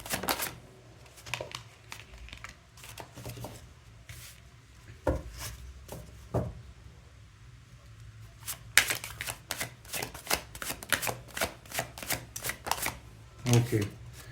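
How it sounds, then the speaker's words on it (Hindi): Tarot cards are shuffled by hand in repeated riffling and sliding bursts, close and fairly quiet, with pauses between handfuls and occasional soft speech beneath. "आप चाहें तो ये शफलिंग वाला पार्ट स्किप कर सकते हो गाइस।"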